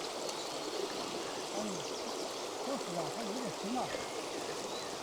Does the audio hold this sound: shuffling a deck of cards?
no